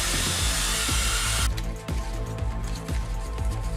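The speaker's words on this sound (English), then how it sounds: "I'm using a DA sander with 80 grit sandpaper on it." A DA sander fitted with 80 grit sandpaper works a fiberglass car bumper, a loud continuous whirring drone with a rhythmic pulsing grind as the pad moves across the surface, close up with no talking.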